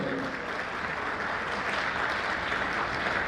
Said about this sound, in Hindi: जोरदार ताली बजा दें, ताली में कमी नहीं होनी चाहिए।